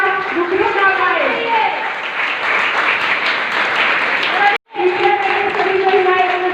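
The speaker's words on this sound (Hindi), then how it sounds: "जोरदार तालियों से स्वागत करिए" Loud applause welcoming Dr. Santosh Daiya, continuous clapping under an amplified voice speaking over it, briefly cutting out near the end before resuming.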